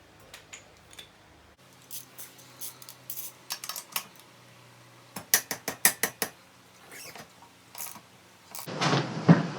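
A ratcheting wrench clicks in quick bursts while loosening a nut on a Lifan KP Mini motorcycle, close and fairly quiet, the sharp clicks coming in short rhythmic runs with pauses and a scrape near the end.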